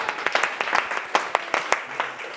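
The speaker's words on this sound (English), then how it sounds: "So a round of applause for everybody" Applause for everyone at a Toastmasters meeting of the Born to Shine Christian club: a soft, steady patter of many hands clapping in a room, with a few sharper claps standing out.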